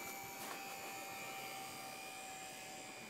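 A HobbyZone Super Cub RC plane fitted with floats flies in to land over snow, its electric motor giving a steady, continuous whine against a constant wash of outdoor noise. No one speaks.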